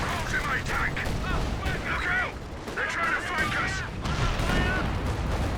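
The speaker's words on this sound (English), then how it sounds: "in comes the mortar cover once again" Mortar fire in Company of Heroes 2, rolling booms and crackling impacts in a continuous battle din, heard under a voice that speaks over much of it.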